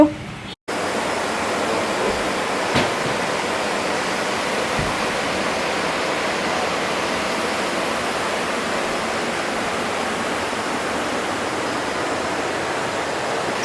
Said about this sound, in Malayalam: ചെറിയൊരു അരുവി പോലെ ഒഴുകിക്കൊണ്ടിരിക്കുന്ന സ്ഥലമാണ്